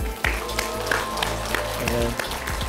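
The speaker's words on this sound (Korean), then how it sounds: "박수 한번 칩시다" Applause from an audience at a Buddhist dharma gathering of lay practice groups, a dense patter of clapping over a low, steady hum with voices mixed in, continuing evenly through the moment.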